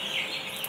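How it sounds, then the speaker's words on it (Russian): Rooster at a petting zoo giving soft, brief clucking calls, fairly near, over a faint background hiss with no talking. "Вон петушок пошел кушать."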